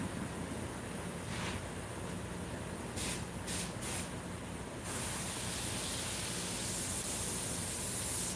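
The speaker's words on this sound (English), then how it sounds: "I'm going to hit around the mouth a little bit more with the airbrush." An airbrush sprays paint around the mouth of a Krampus model in short hissing bursts that stop and start, then settle into a steady soft spray, close and fairly quiet.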